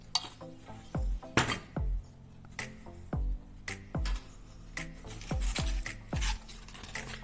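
Close, rhythmic scraping strokes of sandpaper on aluminium, about a dozen back-and-forth passes with short gaps between them, no voices.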